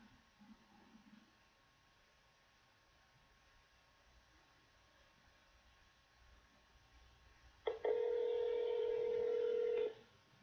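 A telephone keypad sounds a single loud, sustained tone near the end of the call, after several seconds of quiet line hiss.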